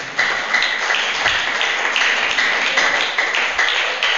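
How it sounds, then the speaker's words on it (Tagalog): Men in a church congregation applaud loudly and continuously, a dense, steady clapping that fills the whole stretch with no talk over it. "Mga kalalakihan, papalakpak yan na malakas."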